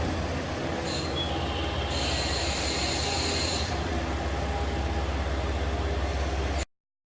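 JR West KiHa 40 diesel railcar, rebuilt as the single-car Belles Montagnes et Mer tourist train on the Johana and Himi lines, heard from on board with a steady engine rumble, rolling wheels and a prolonged high wheel squeal.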